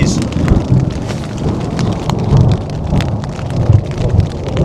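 Heavy rain pattering steadily outside a tent during a thunderstorm at Glacier National Park, with low rumbles of thunder rolling under the constant downpour.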